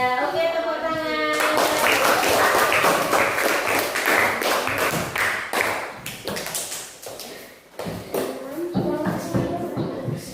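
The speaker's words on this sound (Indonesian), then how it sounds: "tepuk tangan" A classroom of students claps together, a dense burst of hand claps that thins into scattered taps and fades, following a brief voice at the start.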